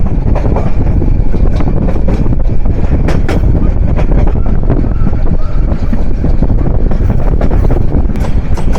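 Parabat Express train running on rails on a curve near Tongi railway junction, a loud continuous rumble with rhythmic clacks and broadband roar throughout.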